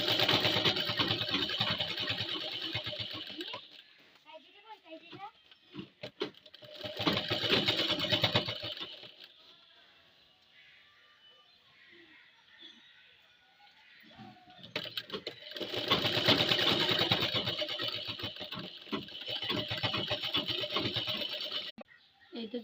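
A sewing machine stitches a churidar for a salwar kameez in three bursts of rapid, close mechanical rattling, separated by quiet handling pauses.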